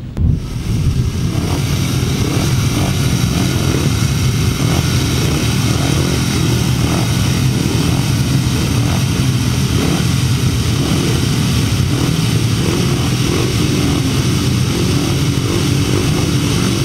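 Solo grasstrack racing motorcycles at the 2007 Tallington Flyer meeting pass in a loud, steady roar of engines that fills the whole stretch, dense and continuous with no break.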